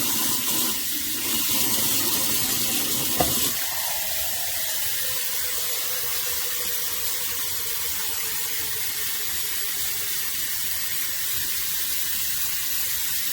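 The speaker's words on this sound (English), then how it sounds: "So I let it run to get clear water." Water runs steadily from a tap in a loud, constant rush, with a brief clunk early on and a slight change in flow afterward.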